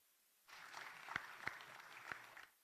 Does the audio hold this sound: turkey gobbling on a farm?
no